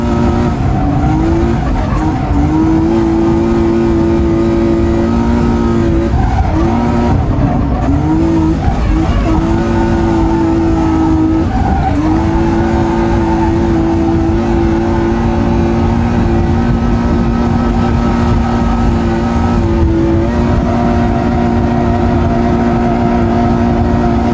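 A BMW E30 drifting on a race track, its engine holding a loud sustained drone with tire squeal, dipping and surging between slides, close and continuous with no talk.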